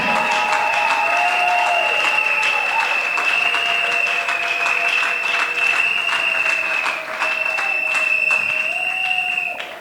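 A church congregation applauds for the Lord with steady, dense clapping that carries on for the whole stretch, with sustained tones ringing above it.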